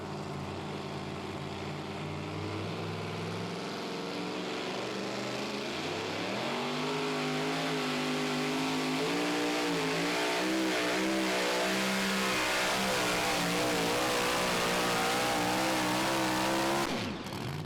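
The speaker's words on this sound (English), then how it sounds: "Jeremy Nelson, Midnight Gambler is the name of the truck" A super modified two-wheel-drive pulling truck runs at a Pro Pulling League event in Franklin, Kentucky. Its engine roars loud and sustained, climbing in pitch through repeated revving surges as it pulls before cutting off abruptly.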